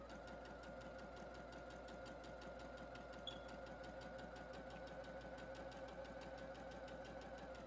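A sewing machine stitches a fabric seam with a fast, even mechanical chatter, quiet and steady at close range, first in reverse for a few stitches and then forward.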